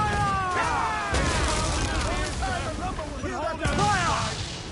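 Broadside cannon fire from a sailing ship in Assassin's Creed Black Flag, sharp booming blasts at roughly one- and two-second intervals, heard up close under shouting voices.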